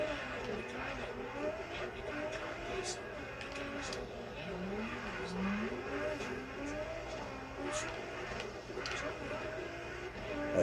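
A BMW drifts around Mondello race track with a steady engine drone and rising, falling revs as it slides through corners, heard from inside the car with muffled talk underneath.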